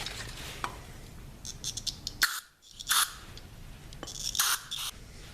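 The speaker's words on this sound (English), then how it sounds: "take some compressed air and go through that emulsion tube and blow all the crap out of it" Compressed air blown through the emulsion tube of a carburetor from a 1972 Honda CB450 sounds as several close, loud hissing bursts of uneven length, with short gaps between them and no voices.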